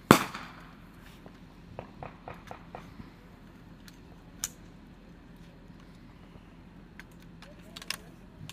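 Gunfire from an Air National Guard readiness exercise cracks out as a loud close shot at the start, followed by scattered, quieter sharp reports at irregular intervals against a low background hum.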